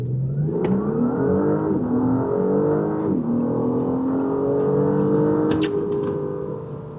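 Audi A5 launching hard from a standstill under launch control: loud, steady engine note climbing in pitch through several gear changes, with no talking over it.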